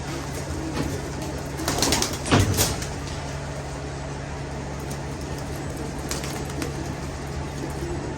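Soft pigeon coos sound close by over a steady background hum, with a brief bump or rustle early on.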